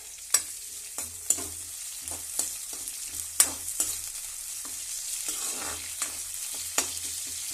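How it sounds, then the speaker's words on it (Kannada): Cumin seeds roasting in a hot pan while being stirred, with a soft steady sizzle beneath sharp, scattered scraping and clinking taps of a spoon against the pan, no voices. "ಜೀರಿಗೆ ಆಮೇಲೆ ಹಾಕ್ತೀನಿ ರೋಸ್ಟ್ ಆಗಿಬಿಡುತ್ತೆ"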